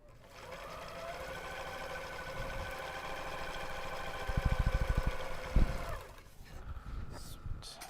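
A serger sews the end seams on grime guards, a loud close whirring run of several seconds with a few sharp knocks near the end before it stops and faint handling noises follow.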